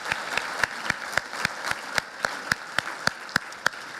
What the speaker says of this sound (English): I also think he deserves a round of applause